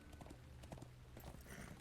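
Steady clip-clop of a war steed's hooves in the online game Lord of the Rings Online, a continuous trotting rhythm with no talk over it.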